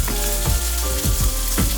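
Boiling water is poured onto a tea bag in a cup, making a short, close, hissing pour that swells briefly a few times, with no talking.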